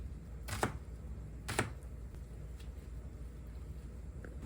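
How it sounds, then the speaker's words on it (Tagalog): A knife cuts a washed onion into fairly large pieces on a board, giving two distinct sharp chops close by in a quiet kitchen, followed by a few faint taps. "Hugasan, sabay hiwain ng medyo malalaki."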